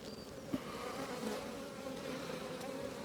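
A colony of honeybees buzzes in a thick, steady drone at an opened hive during a box swap, with individual bees whining close by and a brief knock near the start.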